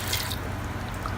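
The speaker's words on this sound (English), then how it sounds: "So I'm going to add about roughly 4 cups of water" Water pours into a pot of raw papaya curry with turmeric and dal, a short, steady splashing rush close by, with no talking.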